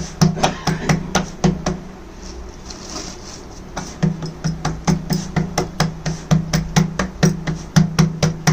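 Ragi (finger millet) bhakri flatbread dough is patted by hand in quick, even slaps close up, with one short pause partway through before the rhythmic patting resumes.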